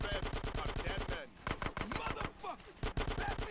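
Rapid automatic gunfire in Grand Theft Auto San Andreas, loud and close, coming in dense bursts with brief gaps and overlapping sharper single shots.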